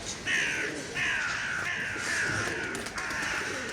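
Several crows caw loudly and harshly, one call after another in a steady series of drawn-out cries, close by and clear with no talking.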